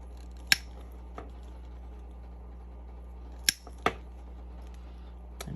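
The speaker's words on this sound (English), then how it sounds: "I'm going to punch my other holes" Holes are punched into a strap, heard as a few sharp, close clicks spaced apart against a quiet background with a low hum.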